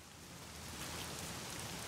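Steady rain falls inside the video game The Medium, a dense, even patter of drops on surfaces that swells slightly and continues without a break.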